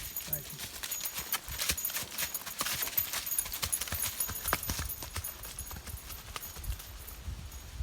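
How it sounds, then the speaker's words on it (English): Horse hooves clip-clop in a quick, uneven patter on a trail during a North–South thru-hike, close by and moderately faint, with people chatting over the steps. "What a beautiful horse."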